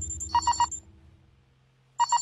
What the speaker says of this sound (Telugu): అది నీ సెల్ ఫోన్ రా